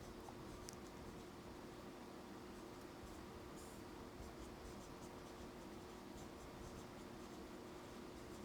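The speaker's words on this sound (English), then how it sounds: "now I should write this down up here I guess, just so you can see what I'm doing" Pen or marker scratching out a calculus derivation for the derivative of tan(x), faint irregular strokes and taps over a steady room hum, with no voice.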